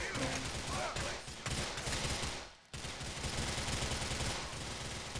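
Rapid gunfire rattles almost nonstop in GTA IV, with a sharp cut into renewed heavy bursts midway that suggests a grenade blast, all loud and dense, with a voice faintly under it.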